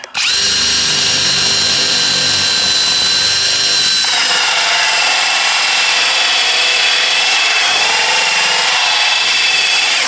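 A reciprocating saw cuts during a window installation, a loud, continuous buzzing whine close by that shifts in pitch partway through and keeps running steadily to the end.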